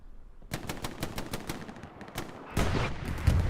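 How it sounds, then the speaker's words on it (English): Incoming artillery fire rains down in a multiplayer World War trench battle video game, a fast run of sharp blasts and rattling shots followed by a heavier, louder barrage toward the end. "That artillery that's coming in."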